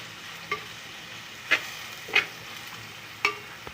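Onions frying in a pan for chicken biryani are stirred, with several sharp scraping strokes spaced about a second apart over a steady low sizzle, fairly quiet and close, with no talking.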